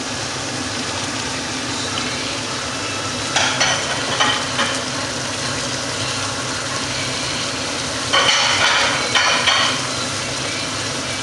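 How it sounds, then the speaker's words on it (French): Spoon stirring a gombo stew of crabs, fish and meat in a pot, with scraping bursts at irregular intervals over a constant simmering background hiss. "on mélange, vous mélangez le tout"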